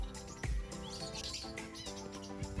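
Pet zebra finches and masked lovebirds chirp and tweet continuously in an aviary, their busy overlapping calls loud and close, with faint wing flutters mixed in.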